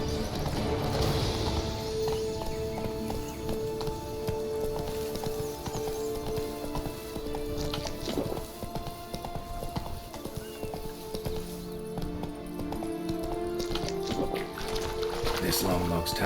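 Roach the horse gallops in The Witcher 3, a steady, close clip-clop of hooves running under continuous talk and game music.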